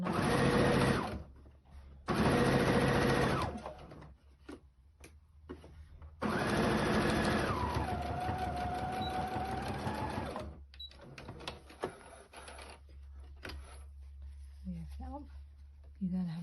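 Sewing machine running in bursts while stitching piping cord along a fabric edge, close and fairly loud with short pauses between runs and a longer steady stretch that slows in pitch; soft handling noises between.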